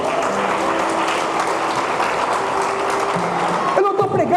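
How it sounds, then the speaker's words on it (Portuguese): A church congregation claps for the King during a sermon, a loud, dense and continuous applause filling the space, with voices calling out over it and a brief clatter near the end. "Você pode aplaudir ao Rei?"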